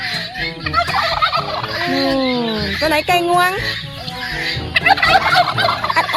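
A turkey gobbles loudly in rapid warbling bursts close by at a farm in Wang Nam Khiao, Thailand, mixed with a child's and an adult's chatter.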